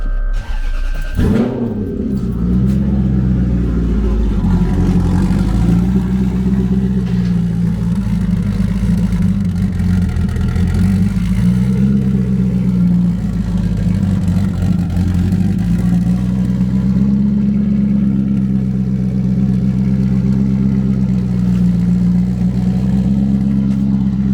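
A car engine cranks and catches after a short clatter, then settles into a loud, steady idle with a low droning hum that holds for the rest of the clip.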